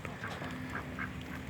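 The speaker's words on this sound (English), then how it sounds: "Sorry for the loud ducks, but this is kind of their work site" Ducks working a muscadine grape planting as weed and pest control, quacking repeatedly in several short calls over steady outdoor background noise, close but moderate in level.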